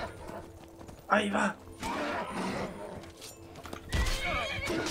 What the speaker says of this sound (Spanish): Joder, el puto caballo.